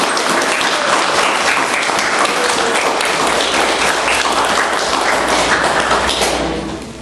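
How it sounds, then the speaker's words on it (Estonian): An audience at the opening of the 2009 Tartu annual art exhibition breaks into dense, loud applause that holds steady for several seconds, then begins to fade at the very end. "Et ma paluks, et me teeksime ühe suure aplausi Markus Toomperele."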